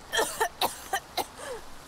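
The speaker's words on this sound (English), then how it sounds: "Probably shouldn't cough in my vicinity." Someone coughs several times in quick succession, five short harsh bursts close by, followed by a faint murmur.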